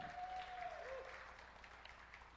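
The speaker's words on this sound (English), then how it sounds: "Give him a clap." Audience at a church gathering meeting giving brief, soft applause that fades out, with a thin electronic tone sliding through near the start.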